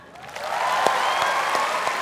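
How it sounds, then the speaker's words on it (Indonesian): Audience applause at a televised stand-up comedy segment featuring West Java gubernatorial candidates, a dense steady clapping wash that swells in quickly and holds for about two seconds, with a few sharper claps standing out. "Silakan kita kasih tepuk tangan."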